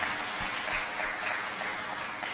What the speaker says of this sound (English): so please a round of applause for Patricia.